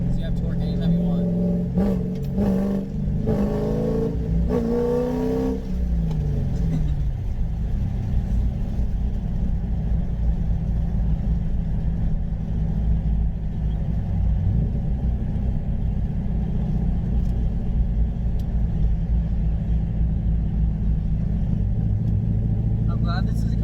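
A cammed Corvette Z06 V8 engine rumbles steadily from inside the cabin during a ride along, with a rising rev in the first few seconds and then a constant loud drone, while people talk over it.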